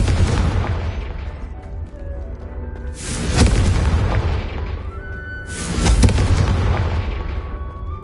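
Confringo spell blasts in the video game Hogwarts Legacy go off as three heavy booming explosions a few seconds apart. Each one has a sharp crack and a long rumbling tail over steady background noise.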